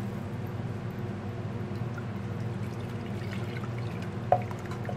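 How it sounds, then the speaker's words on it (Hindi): A cup of water is poured into mashed dal for Hyderabadi budme ki khatti dal, a steady low wash of liquid over a kitchen hum with one brief splash or clink near the end. "अब मैं इस समय डालूंगी एक कप पानी"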